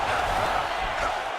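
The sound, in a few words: crowd applause in UFC 5 video game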